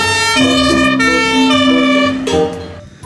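Toy fire engine siren wailing up and down in a loud, steady electronic tone close to the listener, lasting a few seconds before tailing off.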